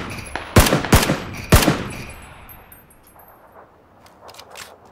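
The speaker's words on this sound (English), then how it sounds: "This guy's still shooting at me from the window, I think." Gunfire in the video game PUBG: three sharp, loud shots close together in the first two seconds, then fainter distant pops against a quiet background.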